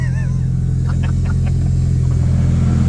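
A turbocharged car engine with a new bottom end runs on a dyno, giving a loud, steady low rumble with a faint whine on top and no voices.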